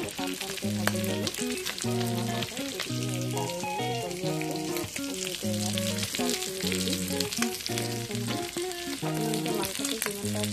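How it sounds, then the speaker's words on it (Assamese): Local chicken meat fries hard in a pan with a continuous close sizzle and crackle, partly covered by loud tuneful background music playing the whole time. "আপোনালোকে মাংসটো যিমান পাৰে টানকৈ ভাজি ল'ব"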